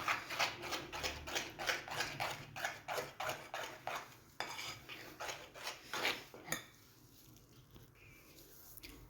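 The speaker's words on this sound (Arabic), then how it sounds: "نحرك ونشوف." Liquid bread dough being stirred in a bowl, giving a steady run of wet scraping, rubbing strokes with a regular rhythm that slows and fades into quiet near the end, close up with no talk.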